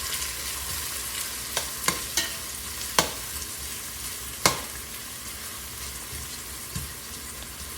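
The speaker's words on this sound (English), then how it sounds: "So I've been sauteing our onions for about 4 to 5 minutes now" Diced onions sauté in oil over medium heat, a steady broadband sizzle with scattered clinks and scrapes from stirring, the loudest knock about halfway through, close by and with no talking.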